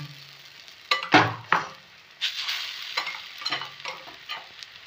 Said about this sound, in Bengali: এই ধোকার ডালটা আমি এবারে কড়াইতে দিয়ে নেড়ে চেড়ে একটা মণ্ড বানিয়ে নেব।